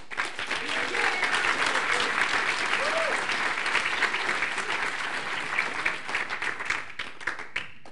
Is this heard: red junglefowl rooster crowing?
no